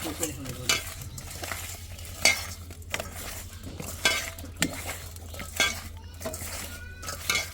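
Fish frying in a pan with a steady sizzle underneath, punctuated by repeated scraping clinks of a metal utensil stirring against the pan, close and fairly loud with no voices.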